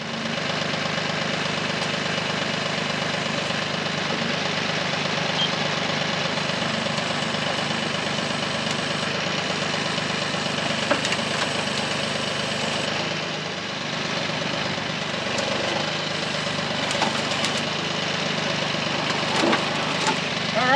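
A tractor engine runs steadily with pallet forks fitted, a continuous mid-pitched idle with a faint knocking texture, close and fairly loud throughout with only a brief dip in level.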